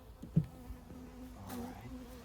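Honeybees in a Langstroth hive after a light tap, giving a faint, steady buzzing hum with a soft knock near the start and a brief swell partway through.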